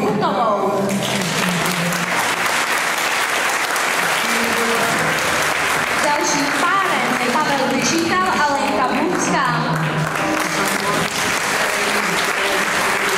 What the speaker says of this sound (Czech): Jako první na pódiu přivítejme potleskem Danu Charvátovou a Markétu Jeníkovou.